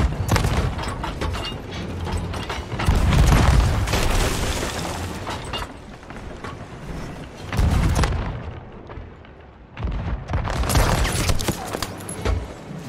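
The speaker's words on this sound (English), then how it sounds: "Hit him with a blunder bomb." Booming cannon fire and blasts from blunder bombs and fire bombs in the Sea of Thieves game, several heavy thumps and crackling bursts coming in waves, loud and close, with a mechanical clatter between them.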